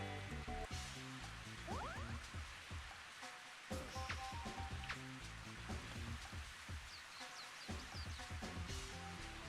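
Steady patter of rain falls in a Nintendo 64 golf game, Mario Golf 64, a continuous hiss layered under chiptune-style music with small chirps and tones on top.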